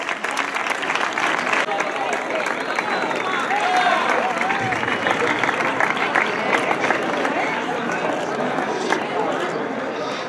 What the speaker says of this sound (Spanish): Y los vamos, pues eso, a premiar con un aplauso fuerte